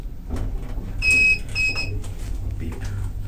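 Two short, bright electronic beeps in quick succession from a Pickerings hotel lift, over a low steady hum.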